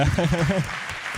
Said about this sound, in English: I think you deserve an applause